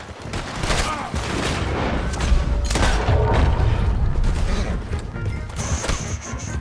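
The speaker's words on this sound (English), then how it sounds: "Open fire on him!" Characters open fire in a video game, with a dense, sustained run of loud gunshots and booming crashes lasting several seconds, the volley mixed with other game noise throughout.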